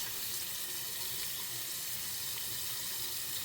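Hot water runs steadily from a tap into a sink while a stained toy pony dress is washed, a continuous close hiss and splash without pauses or voices.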